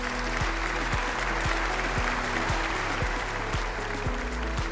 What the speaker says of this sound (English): Can we hear a big round of applause to welcome them on stage?